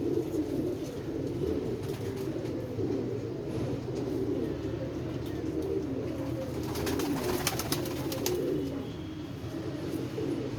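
Pigeons coo continuously with low, rolling throaty calls that sound close by, together with a few higher bird chirps, against steady outdoor background noise during bad weather.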